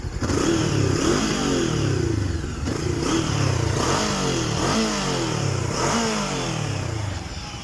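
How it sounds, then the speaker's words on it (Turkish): An RKS M502N 500cc motorcycle engine revs repeatedly, with loud rising and falling throttle blips over a steady rumble and a dry exhaust note, close and continuous with no talk. "Şöyle bir gaz vereyim sizin için."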